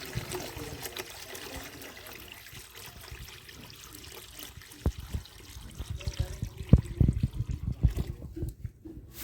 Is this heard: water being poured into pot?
yes